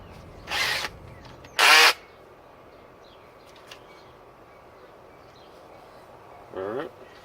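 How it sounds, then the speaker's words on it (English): A power driver fitted with a star bit drives screws into a wooden tomato trellis in three short, high whirring bursts separated by pauses, with quiet outdoor background between them. "I'm gonna put in my driver head with my star bit for my favorite screws"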